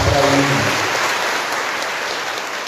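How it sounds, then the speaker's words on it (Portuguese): Congregation at a Mass opening the Feast of São José applauds seminarians, a dense wash of many hands clapping that starts strong with a brief trailing voice and slowly thins, sounding like rain. "uma salva de palmas para eles."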